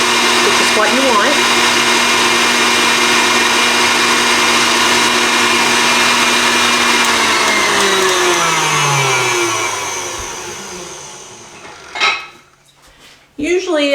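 An electric mixer whips egg whites for a coconut cream pie with a loud, steady whirring drone close by. The motor then spins down and stops, and a few clanks follow.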